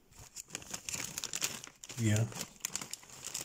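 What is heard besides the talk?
crinkling bag of Funny-frisch Currywurst-style chips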